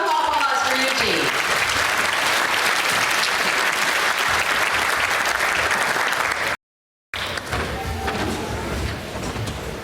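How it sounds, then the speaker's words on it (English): A crowd at a town 150th anniversary celebration in Tabor, South Dakota applauds steadily and loudly for several seconds, cut by a brief silence before the clapping resumes. "let's give a round of applause for Eugene."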